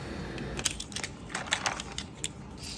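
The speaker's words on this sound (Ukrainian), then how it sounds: "Як заморозився лід, і вони всі мають одинакову форму, дуже зручно потім лопаточкою набирати" Ice cubes are scooped from a tray of uniformly shaped frozen cubes with a small scoop, giving a run of sharp clinks and crunchy scrapes in irregular bursts close by.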